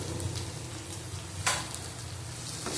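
Spices with turmeric and Kashmiri chili powder sauté in a pan for a bhindi, potato and prawn dish, a dense continuous sizzle with a single sharper scrape near the middle.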